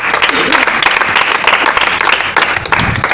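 A church congregation claps and cheers in praise during a French-language sermon, loud sustained applause with voices mixed in, rising and falling across the whole stretch.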